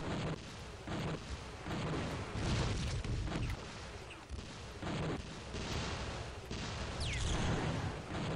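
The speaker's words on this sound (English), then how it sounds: "So he's shooting his kappa cannon at me." A boss fires a cannon in the video game Gunman Chronicles, heavy booming blasts rolling one after another amid dense continuous battle noise.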